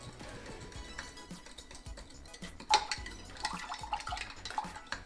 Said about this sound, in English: This will take a minute, so it's good to start stirring.